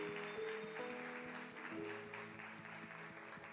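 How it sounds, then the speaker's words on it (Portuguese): An audience at a church youth gathering gives soft, steady applause, a faint continuous patter of clapping under quiet background music. "Vamos aplaudir, gente."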